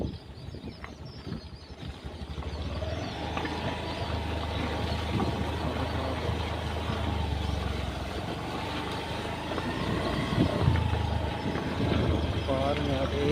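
A vehicle rolls slowly along a village road, its engine a steady low rumble throughout, with voices talking over it.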